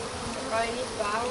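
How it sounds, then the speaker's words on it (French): Dense insect buzzing from a bee swarm under attack by hornets, a steady close hum with faint voices underneath. "les frelons ils sont en train de dévorer toutes les abeilles"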